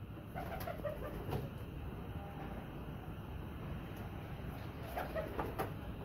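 Pigeons of the young pathha type coo softly among a flock, at a loft in Faisalabad, with faint repeated coos over a steady background hiss and low rumble and no talking.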